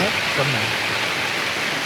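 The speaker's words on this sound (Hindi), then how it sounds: "देखो बारिश हो रही है, ओले जब बंद होते हैं फिर चलते हैं आगे।" Rain and hail fall on a Himalayan trek to Shrikhand Mahadev in Himachal, a dense, steady, close hiss throughout, with a brief voice underneath near the start.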